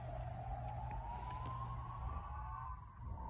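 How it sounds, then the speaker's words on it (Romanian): A faint ambulance siren wails in the distance as the ambulance departs, its tone sliding slowly upward, over a steady low rumble of nearby traffic or engine noise. "Am prins exact cum a plecat salvarea"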